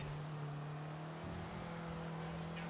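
A Renault R5 Cup race car engine heard from inside the car as a steady, fairly faint droning hum with a slight dip partway through, the engine held on light throttle.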